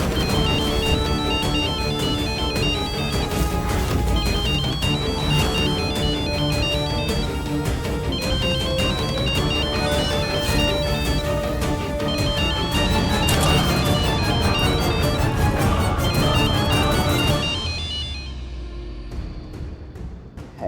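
A loud electronic phone ringtone plays a repeating melodic pattern continuously for most of the clip, then cuts off and fades near the end.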